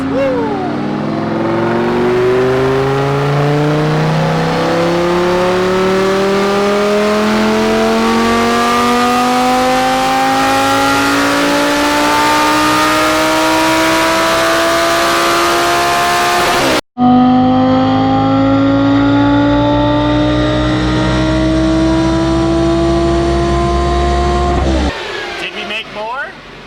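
An Audi engine running an E85 fuel blend screams through a dyno pull, its pitch climbing steadily under load before a sharp break and a second rising run, loud and close, with voices faintly over it.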